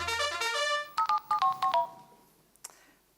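Direct Line advertising jingle playing alone as a short electronic tune: a sustained chord, then five quick bright beeping notes in a descending run, fading out with a faint click near the end.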